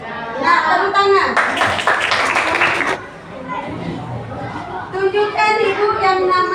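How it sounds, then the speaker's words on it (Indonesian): Fifth-grade schoolchildren in an Indonesian classroom clap their hands in a quick, loud burst lasting a second or two, surrounded by a teacher's voice and children's chatter. "Nah, tepuk tangan."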